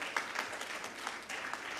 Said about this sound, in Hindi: हमारे वियतनाम से आए सभी मित्रों के लिए भी एक बार तालियां बजा दीजिए